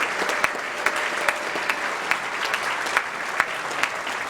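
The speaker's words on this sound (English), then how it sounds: "So if I can get some recognition and applause for all the lenders who are in the room tonight." Sustained applause from an audience of lenders at a chamber of commerce annual dinner, steady dense clapping with no speech over it.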